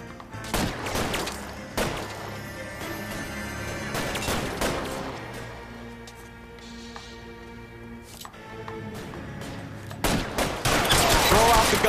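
Bursts of gunfire ring out in the 1940s crime game L.A. Noire, sharp volleys of shots in clusters at the start, middle and end, with quieter stretches and some voices between.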